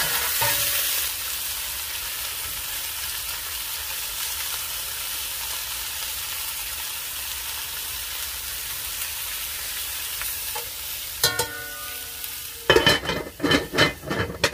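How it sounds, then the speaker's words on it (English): Pork riblets and onion sizzle steadily in a pan, a continuous close frying hiss, with a few utensil clatters and stirring scrapes near the end. "let them fry up for 3 more minutes"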